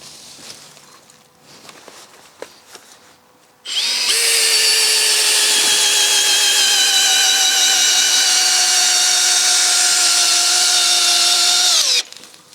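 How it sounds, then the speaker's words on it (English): A power drill drives a long screw into a massive wooden barn door, running loud and steady with a rising whine for about eight seconds before stopping, after quieter shuffling and handling noises. "So now I'll need to put some long screws on the side here."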